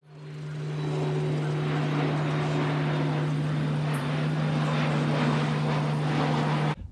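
A large firefighting airplane flies over a California wildfire, its engines giving a loud, steady propeller drone with a strong low hum that stays constant before cutting off abruptly at the end.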